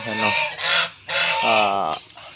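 Goose honking in loud, harsh repeated calls, about four bursts in quick succession from a bird kept on a small farm alongside Muscovy ducks, close by with no talk.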